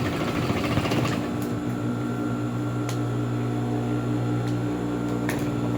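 A sewing machine runs steadily while stitching a seam with a backstitch, a continuous close motor hum and needle whir with a few faint clicks on top.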